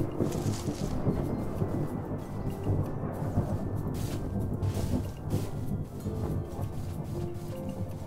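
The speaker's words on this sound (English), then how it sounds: "I don't like all that lightning." Thunder rolls during a lightning storm in modded Minecraft, a continuous low rumble with rain-like hiss and a few sharper cracks, no speech over it.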